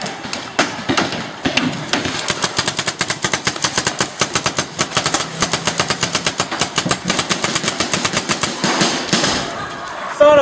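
Paintball guns fire in rapid, continuous bursts during an outdoor paintball game, a dense loud rattle of shots that runs almost the whole time without any talk.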